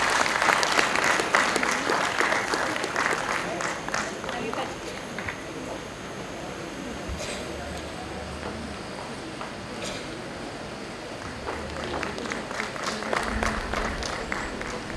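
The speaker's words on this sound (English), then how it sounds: "Give a big round of applause to all our guests." Broad audience applause for guests at an international conference, loudest at the start, easing through the middle and swelling again toward the end, with voices mixed in.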